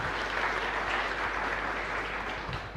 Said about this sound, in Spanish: Fuerte aplauso para el Señor entonces.